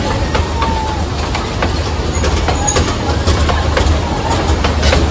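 The Matheran toy train passing close by on the hill line, a loud continuous rumble with repeated wheel clicks and light metallic squeals.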